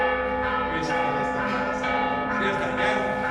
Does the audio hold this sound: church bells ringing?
yes